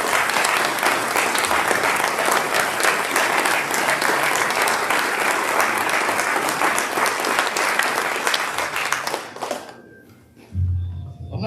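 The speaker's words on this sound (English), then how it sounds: "I'd like to give them a round of applause." A large crowd at a State of the City public event applauds loudly and steadily for about nine seconds before the clapping fades out, followed by a low thump.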